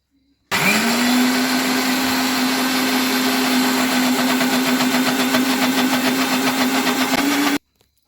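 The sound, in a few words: mixer grinder grinding soaked dosa ingredients with water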